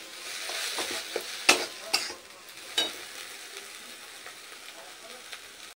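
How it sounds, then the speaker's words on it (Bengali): Pointed gourd stuffing being stir-fried in a pan, with soft scraping and stirring sizzle and a few sharper clinks of a spatula against the pan, close and moderately quiet, no talking. "সমস্ত কিছু ভালো করে মিশিয়ে পুরটাকে অল্প একটু কষিয়ে নিই"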